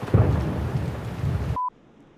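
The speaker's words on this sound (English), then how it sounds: "The rain is coming." Thunderstorm with rain in Puerto Rico, a dense, loud rumbling wash of rain and thunder that cuts off abruptly into near silence with a short tone.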